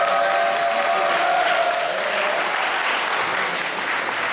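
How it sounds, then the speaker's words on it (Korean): A lecture hall audience breaks into loud, continuous applause before a mentoring talk by a photographer, dense clapping from many people holding level throughout, with a faint tonal sound fading in the background early on. "박수 한번 치고 시작하겠습니다."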